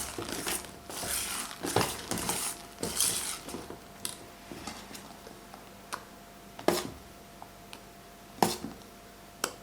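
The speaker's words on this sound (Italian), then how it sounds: "aggiungo a cucchiaiate la panna montata al mascarpone ed incorporo con la frusta a mano" A hand whisk folds mascarpone whipped cream in a bowl, giving soft, irregular scrapes and light metallic clinks against the bowl, close up with gaps between strokes.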